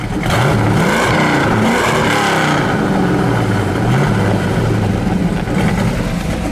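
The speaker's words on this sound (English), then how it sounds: "Go ahead, give it a rev." A 1968 Plymouth GTX 426 Hemi with a four-speed is revved hard several times, loud close engine roars rising and falling before it settles back toward a rough idle.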